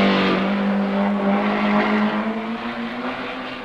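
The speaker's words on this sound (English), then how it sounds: "The leading Mustang just lapping Hunter's Porsche, which is now up to third place." Racing saloon cars, a Ford Mustang and a Porsche, roar past at a 1968 British championship race, heard as one loud sustained engine note that fades slightly as it moves away.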